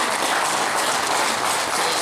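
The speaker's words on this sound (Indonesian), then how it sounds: "minta untuk memberi tepuk tangan yang meriah dulu kepada narasumber kita, Ibu Santi Chandra" Steady, dense applause from an audience at an Indonesian family forum discussion, welcoming the guest speaker, loud and continuous throughout with no talking.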